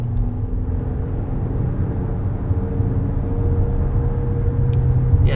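A 2022 Lexus NX 350 F-Sport engine drones as a low, steady rumble heard from inside the cabin, building slightly as it pulls without any talk.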